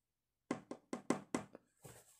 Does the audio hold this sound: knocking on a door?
yes